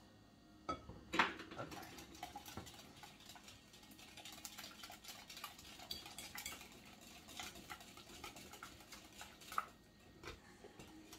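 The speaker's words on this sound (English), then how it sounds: "I do, however, have a whisk that I do not mind using." A whisk stirs grain-free banana bread batter in a bowl, giving steady scraping and clinking against the sides throughout, with a brief spoken word near the start.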